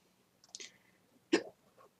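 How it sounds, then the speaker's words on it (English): Two faint, sharp hiccups from a person, spaced nearly a second apart, heard close in otherwise quiet surroundings. "Oh no, I have the hiccups"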